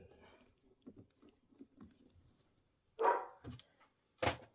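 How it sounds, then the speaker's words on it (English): Mr. Momo the dog barks indoors in a sewing room, a loud burst near the middle and another short sharp bark near the end, after a stretch of quiet rustling and handling sounds. "There's Mr. Momo barking"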